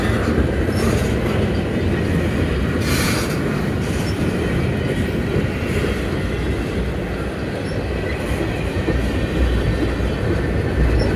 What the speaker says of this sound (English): Pretty big size train.